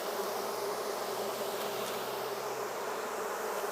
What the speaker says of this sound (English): So there's still a few bees in the basket.